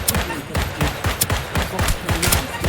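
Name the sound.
gunfire from a weapon in the video game Deceive Inc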